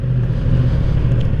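A motorcycle with a stock exhaust idles and revs close by, a steady, loud, low engine drone that holds evenly throughout.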